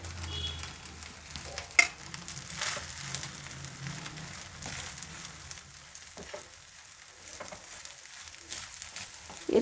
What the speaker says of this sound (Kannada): ಅನ್ನ ಹಾಕಿದ್ಮೇಲೆ ಫ್ಲೇಮ್ ಕಡಿಮೆ ಮಾಡಿಕೊಂಡು ಮಿಕ್ಸ್ ಮಾಡಬೇಕು.